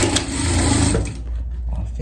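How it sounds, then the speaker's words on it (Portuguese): A sewing machine runs a safety seam through a layered sandwich of fabric with batting in the middle, a loud close mechanical whir that stops about halfway, leaving quieter room noise. "A gente vai passar uma costura de segurança aqui"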